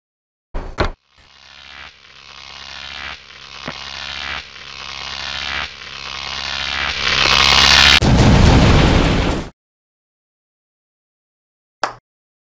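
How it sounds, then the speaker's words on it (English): A sci-fi gun in a Lego-brick animated movie fires at an alien ship: a few sharp clicks, then a rising pulsing mechanical charge that swells into a loud roaring explosion burst, ending abruptly with one faint pop after silence. "Lieutenant Caroline, aim the gun at an alien ship and fire"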